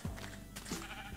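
Sheep in the video game Minecraft bleat twice, with a short bleat at the start and another a little later, both near and clear against a quiet background, with no one talking.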